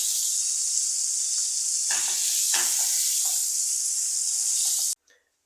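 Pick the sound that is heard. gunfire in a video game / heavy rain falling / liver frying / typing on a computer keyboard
liver frying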